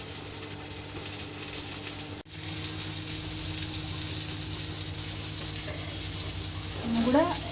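Fish sizzles steadily in a hot pan while being fried Kerala style, a continuous close hiss with a short break and a faint voice near the end.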